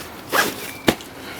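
The zipper on a Lowepro Flipside Sport 15L camera backpack is pulled in two close, quick strokes: a rasping zip followed by a sharper short one.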